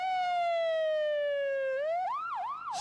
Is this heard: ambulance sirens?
yes